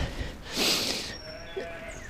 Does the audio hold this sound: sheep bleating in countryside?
yes